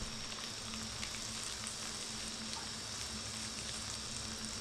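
Egg masala sizzling and frying steadily in a hot pan on a kitchen stove, a continuous close, even crackle with no talk.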